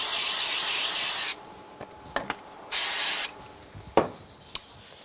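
Two long hissing bursts from a spray can used on a Christmas card craft project, close and steady, separated by brief handling clicks and taps.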